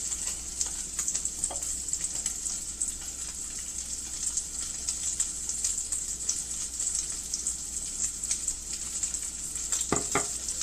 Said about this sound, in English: My butter's burning.